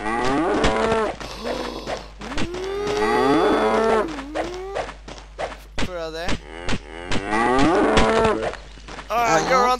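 Several loud, close cow moos one after another, drawn-out and wavering, with brief thumps and a short spoken phrase between them.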